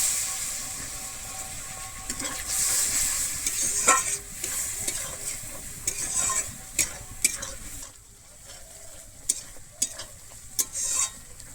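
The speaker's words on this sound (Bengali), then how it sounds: "আমি কাজু বাটা দিয়ে কিন্তু আবারও খুব ভালোভাবে এখানে কষিয়ে নেব" Cashew paste fries in a pan for a Bengali steamed egg curry, sizzling softly. Frequent close stirring scrapes and sharp utensil clicks against the pan break through the hiss, with no one speaking.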